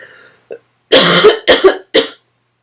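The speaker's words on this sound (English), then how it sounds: "sorry for my coughing." Three rough, forceful coughs close to the mic, one after another, preceded by a short throaty sound and followed by silence.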